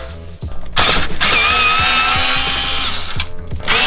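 A power screwdriver whirs in loud, close bursts while backing screws out of the internal trim of an Audi A5 B8.5 headlight, with ratcheting clicks between the runs of the motor.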